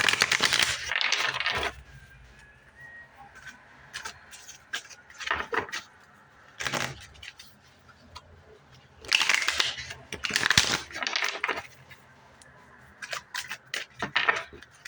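Thick Light Seers Tarot cards being shuffled, in bursts of dense riffling and slapping separated by quieter pauses, close up and crisp.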